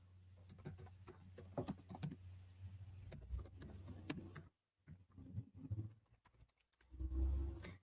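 Rapid clicking of computer keys, irregular bursts of typing with brief pauses, close by, alongside low rumbling noise.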